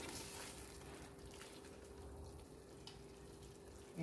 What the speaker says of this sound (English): Adding a little bit of water.